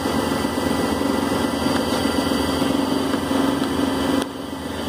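A Syil C6-B CNC lathe grooves a part, giving a steady mechanical hum with a bright cutting whine that runs continuously, then drops noticeably in level near the end.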